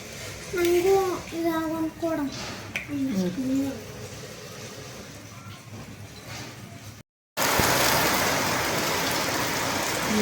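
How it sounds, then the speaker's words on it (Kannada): A voice chatters over a background hiss, then a brief cut gives way to dense, steady downpour roaring loudly without pause. "ಭಾಳ ಜೋರು ಅಂದ್ರೆ ಜೋರು ಮಳೆ ಬರಾಗಂತೈತಿ"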